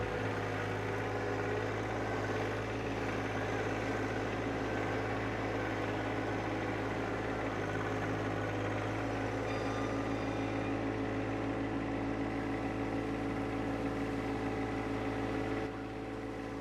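A John Deere 3520 tractor with a box blade drones steadily while it pushes a small stone pile, its engine a constant near rumble with an even tone throughout and no voices.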